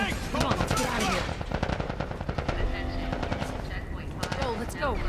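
Rapid automatic gunfire in The Last of Us Part 1, loud overlapping bursts and rattling shots nearly continuous throughout, with people shouting over the firefight.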